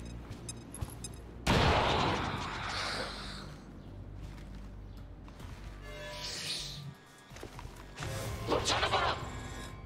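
A grenade goes off in a squad tactical video game with a sudden loud blast and a rolling rumble. Further bursts of gunfire and blasts follow later, with faint voices in the mix.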